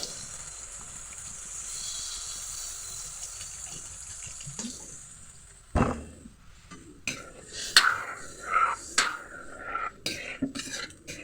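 Water runs from a tap, a steady wash that soon gives way to clinks and knocks of dishes and pans being handled nearby, with no voices.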